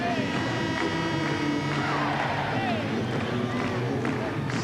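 Sellout basketball crowd on its feet at the Salt Palace during a 1990-91 Jazz home game against the Sixers, a steady roar of cheering filling the arena under a commentator's voice.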